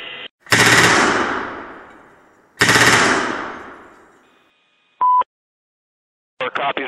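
An external gun mount fires two long machine-gun bursts close by, each ringing out and fading over about two seconds, followed by a short electronic tone and some faint clatter.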